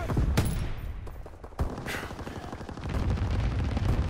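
Flak guns firing in a World War II game, a dense roar of anti-aircraft fire with a couple of sharp bursts standing out over continuous rumbling battle noise.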